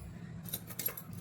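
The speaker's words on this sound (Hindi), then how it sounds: "गाड़ी का चाबी गाड़ी अंदर कर दूं" Car keys jangle briefly and faintly in two or three quick metallic shakes, close by in a quiet room.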